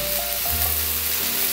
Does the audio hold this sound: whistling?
no